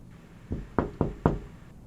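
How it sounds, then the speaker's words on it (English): Knocking on a door in the video game Blade Runner: four crisp wooden knocks, a soft one and then three firmer evenly spaced raps, close and clear over a quiet background hum. "And right after he has knocked on the door, Philippa will reach past him and open it"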